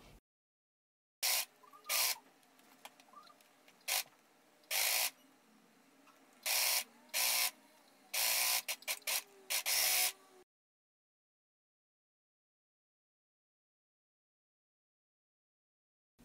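Sewing machine stitching a rugby shirt seam in bursts, loud whirring runs of varying length separated by quieter pauses and handling clicks, then silence for the last third.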